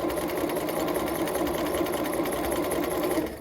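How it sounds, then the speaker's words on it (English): A sewing machine runs steadily, stitching an invisible zipper into fabric, a loud continuous mechanical whir with a rapid needle rhythm that holds throughout and drops off slightly at the very end. "And I'm going to keep sewing."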